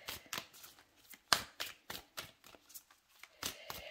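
Mermaid oracle cards being shuffled by hand in a quiet room, a series of soft papery riffles and flutters repeating at an irregular rhythm, close and fairly quiet.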